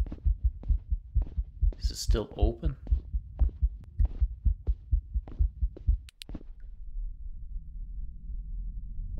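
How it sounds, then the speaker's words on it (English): A steady, deep thudding heartbeat pulses in a dark horror video game, each beat evenly spaced and prominent, with a brief spoken question partway through before the beats give way to a low droning hum. "I don't like the sound of that heartbeat."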